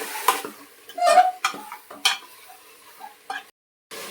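A spoon stirs and scrapes through mutton in a pan in several irregular strokes, close by, followed by a brief moment of silence.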